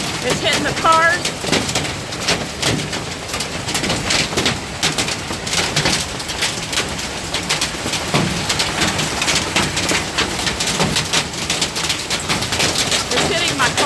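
Dime-sized hail pelts a car during a Central Florida hailstorm, a loud continuous rattle of rapid irregular impacts lasting the whole stretch, with a brief bird chirp near the start.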